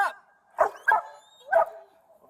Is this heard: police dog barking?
yes